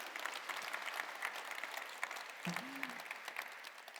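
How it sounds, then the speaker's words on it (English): Steady crowd applause fills the space, a dense wash of clapping that holds at an even level throughout. "I was expecting a bit more applause, or at least some applause."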